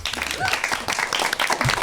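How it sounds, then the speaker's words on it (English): A studio audience claps, a scattered burst of applause with voices talking over it throughout. "Barbara had to make the audience clap"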